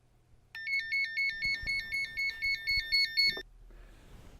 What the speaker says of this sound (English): A low LO alarm will sound after 1 minute.